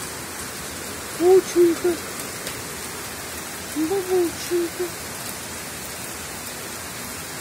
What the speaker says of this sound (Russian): Реально такой дождь.